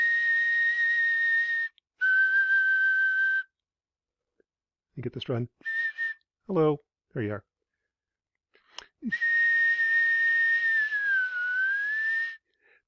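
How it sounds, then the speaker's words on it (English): A person whistles steady pure tones into a phone running an oscilloscope app, two held notes, a pause with a few short spoken words, then a long whistle that bends in pitch; clicks and talk appear between the whistles. "If you have certain signals like a whistle"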